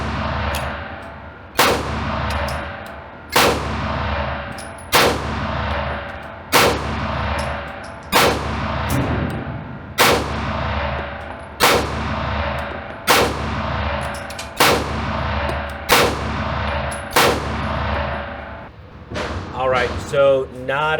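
Echelon 4.0 pistol fired at an outdoor range, about a dozen loud, sharp gunshots spaced a second or two apart in a steady rhythm, each with a brief ringing decay, followed by a short voice at the end.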